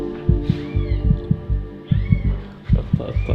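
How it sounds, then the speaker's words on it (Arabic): A hidden cat gives a few faint, brief meows among repeated low muffled thumps and rustling close by. "هي قطه"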